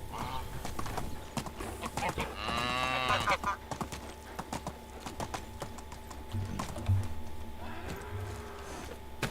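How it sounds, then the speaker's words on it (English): An angry cow in the medieval farming game Medieval Dynasty lets out a loud, drawn-out moo near the start, set over a steady ambient game bed with clopping and other farm sounds. "That's one angry cow."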